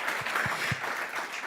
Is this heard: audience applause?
yes